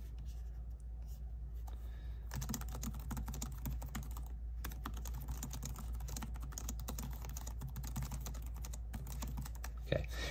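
Rapid, steady typing on a Lenovo ThinkPad L13 Yoga 2 laptop keyboard, a continuous patter of light key clicks close by with a low background hum.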